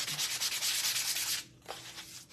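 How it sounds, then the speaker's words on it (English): Steady, close rasping of a sanding block rubbed back and forth for over a second, then a pause and a brief lighter scrape. "a sanding block or sandpaper takes care of it"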